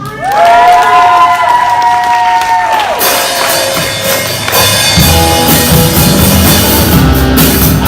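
An audience cheers, shouts and applauds to welcome a speaker to the stage, a loud, continuous roar of crowd noise and clapping that swells after a brief tonal sound at the start.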